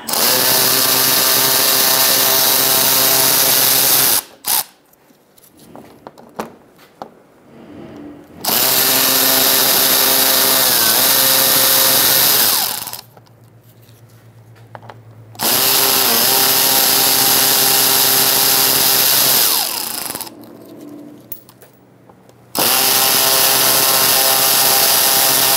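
A power tool with a 5.5mm socket backs out bolts under a 2000-2007 Ford Taurus before the radiator is drained. It makes three long, loud whirring bursts separated by quieter pauses with clinking and handling noise.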